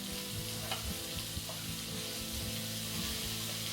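A whole package of baby portobello mushrooms sautés in a skillet, giving a steady, close sizzle with occasional clicks and scrapes of stirring and no talk.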